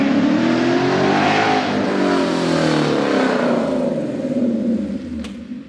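A boosted ruby red Porsche 931 arrives in South Carolina, its engine loud and close, revving and shifting as it passes by, then fading slightly as it moves off.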